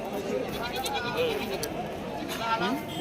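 A goat bleats a few times through lively nearby conversation in a noisy outdoor market crowd in Shirur, Maharashtra.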